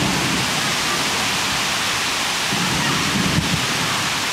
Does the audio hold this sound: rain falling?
yes